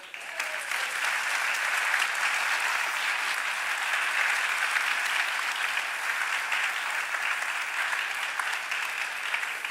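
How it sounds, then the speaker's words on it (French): A room full of people applauding at a New Year's greetings event, dense sustained clapping that stays loud and even for nearly ten seconds, alone without voices. "On peut les applaudir."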